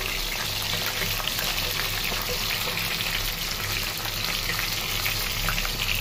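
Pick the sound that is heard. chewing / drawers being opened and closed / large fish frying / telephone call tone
large fish frying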